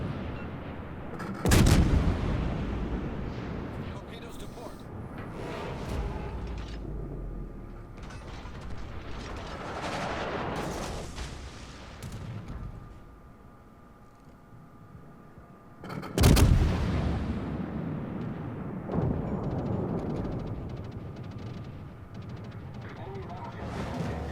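Heavy naval guns fire in World of Warships from the French tier-6 premium cruiser De Grasse at an enemy battleship, with two loud booming salvos about fifteen seconds apart over a continuous rumbling mechanical din, and a voice talking throughout.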